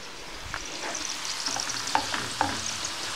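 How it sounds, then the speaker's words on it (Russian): Diced potatoes frying in a pan, with a steady bright sizzle and several sharp scraping clicks as they are stirred, close and moderately loud with no talking. "Картошечка у нас уже поджарилась."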